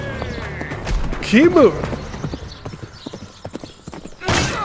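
Horses gallop in the video game Tales of Glory, rapid clip-clopping hooves with a whinny, close and busy, while a player talks over the action.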